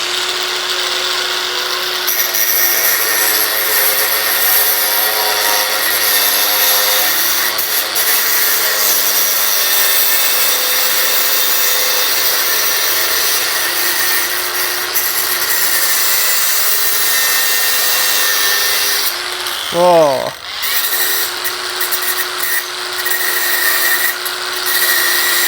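Fuyaon brushless angle grinder running at speed setting 3 and cutting through iron, a steady high-pitched whine throughout with a sharp sweeping shift near the end as the cut finishes, loud and close.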